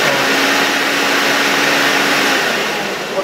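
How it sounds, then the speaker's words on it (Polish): An Interstate Engineering Compact C-6 vacuum cleaner from around 1964 runs with a loud, steady broadband roar and whine, close up and unbroken throughout. "Podczas pracy tego odkurzacza."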